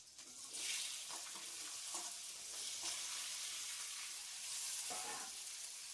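Vegetables fry in a pan while being stirred into a spice paste with bay leaves. A soft, steady sizzle runs throughout, with light scraping strokes from the stirring coming every second or so.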